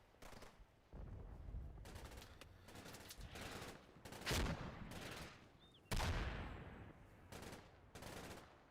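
In Red Thunder, sustained gunfire and bombardment come in repeated loud bursts and volleys, with sharp rattles over a dense background of shots. A voice speaks briefly.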